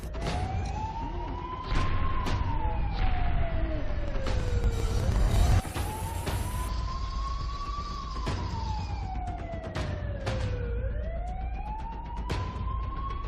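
A wailing ambulance siren sweeps slowly up and down in long cycles, loud and continuous, with traffic rumble underneath.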